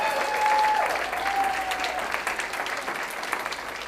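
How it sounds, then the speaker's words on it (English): A career day audience applauds steadily, a dense patter of clapping that holds at a moderate level for a few seconds, with a faint tone sounding briefly over the start. "Let's give her a round of applause."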